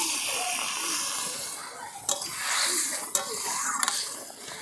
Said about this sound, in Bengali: এই যে সরষে এবং কাঁচা লঙ্কা বাটা জল আমি দিয়ে দিচ্ছি এবারে।